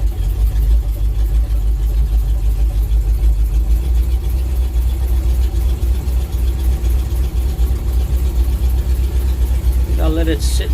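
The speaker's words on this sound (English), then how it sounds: "I'll let it sit and idle for a bit just to warm up" A Simca Marmon 4x4 engine idles to warm up, a loud, steady low rumble close by that stays even throughout, with a brief voice near the end.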